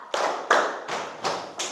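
A classroom of students claps a teacher-led clap pattern, five sharp group claps in an even, steady rhythm with short pauses between them, close and clear with no talking.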